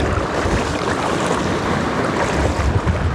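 Strong wind roars steadily beside a river where someone is euro nymphing for trout, a dense broadband rush with loud microphone buffeting and no talk.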